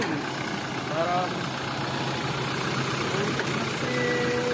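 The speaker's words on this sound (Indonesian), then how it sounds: "untuk mesin masih sangat halus suaranya dan semuanya masih kering" Diesel engine of a Toyota Innova Reborn with automatic transmission idling, a steady, even rumble heard up close and continuing throughout with faint background sounds over it.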